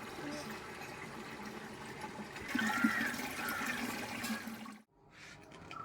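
Water rushes steadily into a tank with a pump-like drone, rising briefly louder midway before dropping away abruptly near the end.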